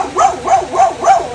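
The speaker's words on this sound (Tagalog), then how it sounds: "Maingay yung aso namin." A dog barks four times in a steady rhythm at a home during heavy rain in Davao City, each bark loud, close and gruff, evenly spaced with no talking between.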